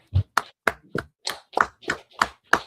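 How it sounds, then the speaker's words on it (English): An audience at a scripture class gives a short burst of applause, about nine distinct sharp claps in a loose, slightly uneven rhythm, close and clear with no voices. "Clap it up for the class."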